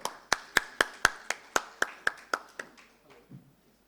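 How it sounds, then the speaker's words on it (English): Applause from a panel audience at a dairy safety and quality summit, heard as roughly a dozen crisp, evenly spaced claps in a steady rhythm that fade out over a few seconds. "Can we have a huge round of applause for sir?"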